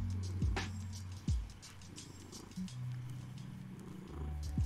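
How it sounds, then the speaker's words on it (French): A domestic cat purrs close up in a low, steady rumble that rises and falls with each breath, fairly loud and uninterrupted, with no talking. "Oh, tu ronronnes très fort."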